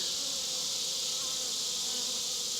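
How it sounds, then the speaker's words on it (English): Bees buzz around the entrance of a hive holding a newly captured wild swarm on a ranch, a steady faint drone with the odd nearer fly-by and no voices. "I see bees coming back and forth, you know, flying around."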